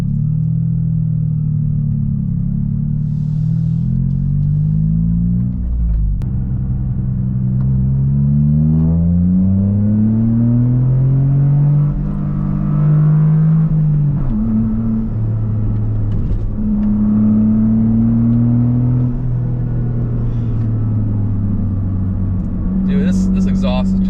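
A Toyota GR Corolla with a newly fitted aftermarket exhaust drives on a public road, its engine note rising and falling through gear changes in a deep, steady rumble heard from inside the car.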